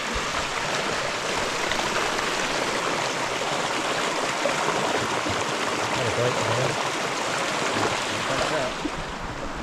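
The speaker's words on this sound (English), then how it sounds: "There's a fair amount of water flowing through there" Steady rushing water flows continuously throughout, a broad even wash of sound like a stream running close by, with no clear voices over it.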